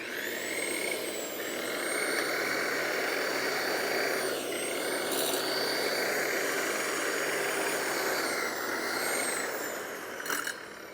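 A 12 amp corded electric lawn edger whines steadily as it cuts along a sidewalk edge, a loud continuous motor drone that dips briefly midway and holds nearly unchanged throughout.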